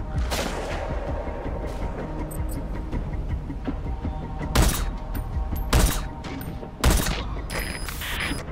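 Gunfire in Metal Gear Solid V: The Phantom Pain: scattered distant shots over a rumbling battlefield bed, then three loud, sharp bursts at roughly one-second intervals near the end.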